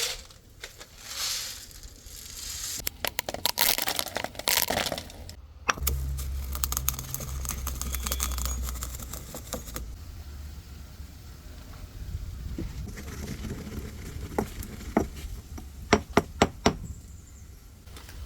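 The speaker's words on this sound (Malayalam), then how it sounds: "അപ്പൊ നമ്മളെ കറുത്ത മുത്തിനെ പൊടിക്കാൻ പോവുകയാണ് കേട്ടാ." Black peppercorns are crushed for biryani with bursts of rapid knocking and grinding, then a low rumbling stretch, and sharp clustered impacts toward the end, all close with no speech.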